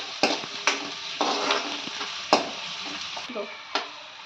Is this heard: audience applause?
no